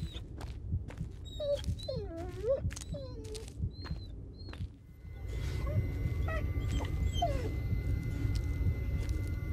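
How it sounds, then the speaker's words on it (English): A dying dog in the Blair Witch game whimpers in a string of high, wavering whines and yips, close and fairly loud, before a steady low background hum swells and takes over. "Let dying dogs lie."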